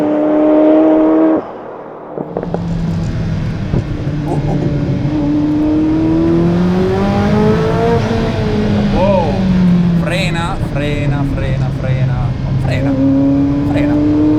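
A Ferrari F40 supercar engine revs and accelerates hard, rising and falling through gear changes, loud and close, with talk over parts of it.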